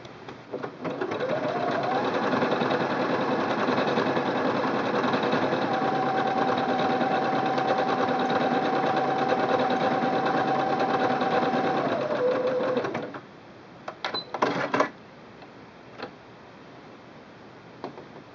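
Singer Quantum Stylist 9960 sewing machine runs a decorative stitch in a fast, steady mechanical whir with rapid ticking, then stops, followed by a few clicks and small clatters as the fabric is handled.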